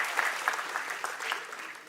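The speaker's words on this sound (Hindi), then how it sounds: "इस बात के लिए तो जोरदार तालियां बनती हैं।" A brief burst of audience applause at a chamber of commerce centenary celebration and headquarters inauguration, moderately loud and steady, with no speech over it.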